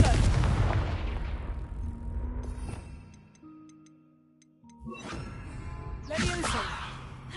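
A fire spell being cast in a magic video game: a loud burst of broadband crackle and blast that fades over a few seconds, followed by a quieter gap with faint tones, then another rushing burst.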